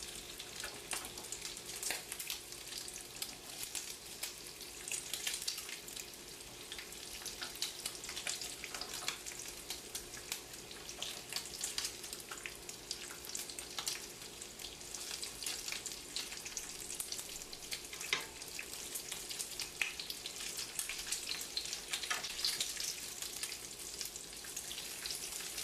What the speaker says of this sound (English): Place the patty onto a heated frying pan.